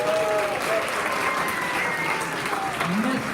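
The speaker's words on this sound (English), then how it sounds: "Please give them a round of applause." Continuous audience applause for teachers at a kindergarten promotion ceremony, a dense, steady wash of clapping from a sizable crowd with faint voices and cheers mixed in.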